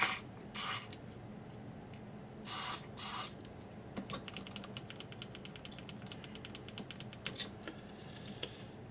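Short hissing bursts of DeoxIT contact cleaner sprayed into a switch on a TEAC A-170S cassette deck being recapped, three quick spurts early on, followed by faint clicks and a brief later hiss, close and quiet.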